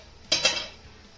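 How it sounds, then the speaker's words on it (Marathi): A metal lid lifted off a cooking pot of cluster beans being steamed, giving two quick metallic clinks close by, then quiet. "यावरचं झाकण काढूया"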